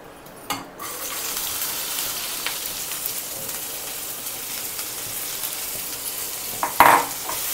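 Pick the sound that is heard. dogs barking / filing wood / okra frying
okra frying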